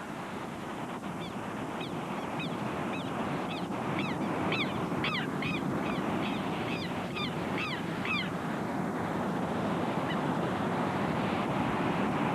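A guard bird near its nest with three eggs gives a run of repeated harsh alarm calls in the open Amazon, loud and close over steady wind or water noise, with no talk.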